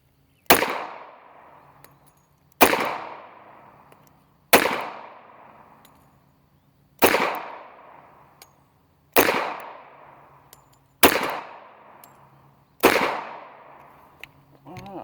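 Seven loud, sharp gunshots from a Tisas Tanker pistol fired at a target 15 yards away with a barrel behind it, spaced about two seconds apart, each with a ringing decay.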